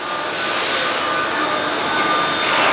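A machine producing throttle bodies inside the TM Racing factory in Italy: a loud, steady whirring hum with a faint high tonal whine, rising slightly toward the end, with no voices.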